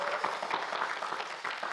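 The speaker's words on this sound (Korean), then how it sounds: "다시 한번 큰 박수 감사합니다. 부탁드리겠습니다." Studio audience applause at a Korean government TV talk show, a steady broadband wash of many hands clapping at moderate level with no speech over it.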